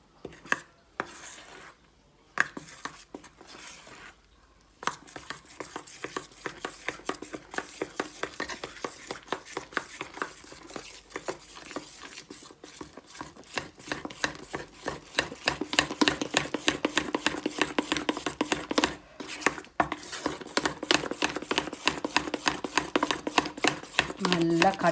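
Jalebi batter is whisked in a bowl, producing rapid rhythmic scraping and tapping strokes that grow faster and louder, with brief pauses between bursts of mixing.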